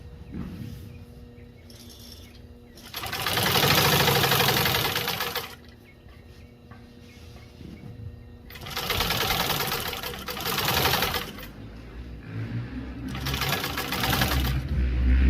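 A commercial sewing machine binds the edge of automotive carpet, running in several loud mechanical bursts of rapid stitching separated by quieter pauses with faint handling noise.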